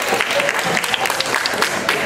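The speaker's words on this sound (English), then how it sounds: "Clap it up." An audience at a Father's Day event in Harlem claps steadily in a continuous wash of many hands, moderately loud, with faint crowd voices mixed in.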